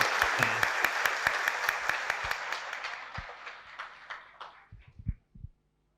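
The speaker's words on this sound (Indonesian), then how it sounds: "kita berikan aplaus untuk Pak Luhut Binsar Panjaitan" Audience applause for Luhut Binsar Panjaitan at a televised talk show taping, a dense steady clapping that fades away over several seconds into a few scattered final claps.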